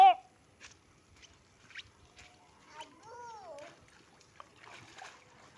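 Children splash about in rainwater, with a few short splashes and sloshes at moderate distance while kids shout and chatter and an adult calls out to them.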